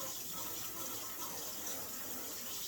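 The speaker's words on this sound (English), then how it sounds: "I can control the flow of the water. As you can see, it comes out with pretty good pressure." Water sprays steadily from the nozzle of a portable shampoo station that needs no plumbing, a constant hissing gush at fairly strong pressure with no talking.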